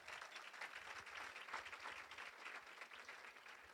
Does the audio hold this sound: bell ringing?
no